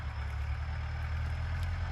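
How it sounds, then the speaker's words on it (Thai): A steady, low farm tractor engine rumble idles on without a break while ploughing a field, a heavy motor chugging close by with no voices over it. "รถไถมาแล้วครับพี่น้อง"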